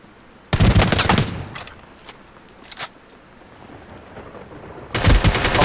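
Gunfire in the battle royale game Ring of Elysium: two loud, close bursts of rapid automatic fire, one early and one at the end, with a couple of sharp single shots and quieter pauses between them.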